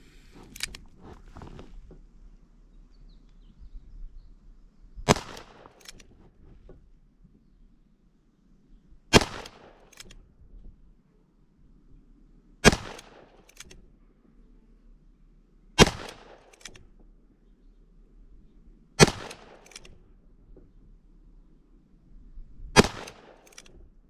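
A Ruger SP101 revolver fires Norma Tac-22 .22LR 40-grain lead round-nose rounds at a range: seven sharp, single reports spaced a few seconds apart, with quiet background hum between shots.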